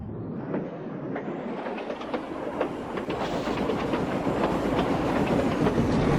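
A steam engine train rolls along the line with rhythmic chuffing and rail clatter, close and steady, building slightly in loudness over the few seconds.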